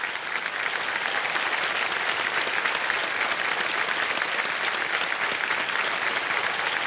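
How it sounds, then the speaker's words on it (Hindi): Sustained audience applause fills a TV quiz show studio during KBC Season 17, dense, steady clapping holding at an even level throughout with no voices over it. "इनका मैं चाहता हूं कि तालियों के साथ अभिनंदन किया जाए"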